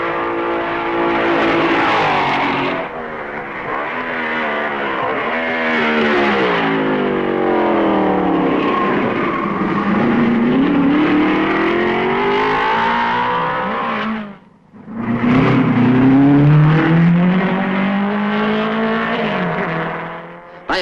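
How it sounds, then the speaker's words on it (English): 1955 Formula One racing cars at the Belgian Grand Prix roar and rev loudly, their engine notes sweeping up and down as they pass close by, with a brief dip before the next car arrives. "By a piece of fine driving, Kling passes Musso at Malmedy."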